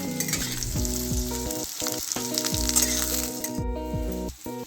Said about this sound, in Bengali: এবার আমি ওই তেলেতেই আলুটা প্রথমে দেবো আলুটা দিয়ে হালকা করে ভাজবো